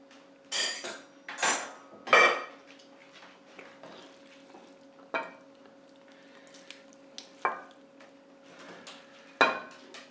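Metal utensils clink and scrape against dishes as clam linguine is plated, with a few sharp, close knocks spread irregularly over quiet pauses and a low steady hum in the background.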